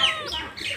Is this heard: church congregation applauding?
no